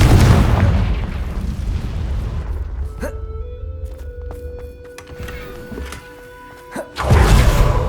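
Confringo fire spell blast in the Hogwarts Legacy video game: a loud booming burst at the start that decays into a rumble, a sharper crack near three seconds, then a second heavy blast near the end, with a voice heard in the mix.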